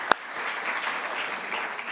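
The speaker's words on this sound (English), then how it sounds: "thank you for your applause" The crowd at a preservation society's annual meeting applauds in a steady, even patter that lasts throughout, with one sharp knock near the start.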